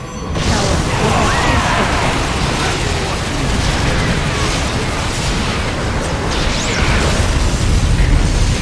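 Sustained explosion effects in StarCraft II co-op, loud dense crackling and rumbling blasts with mechanical clatter running continuously, with faint voices underneath.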